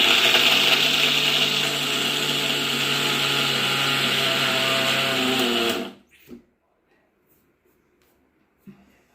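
A mixer grinder runs steadily, grinding ingredients with a few cardamom pods, a loud continuous whirring drone for about six seconds before stopping abruptly, followed by near silence with a couple of faint clicks.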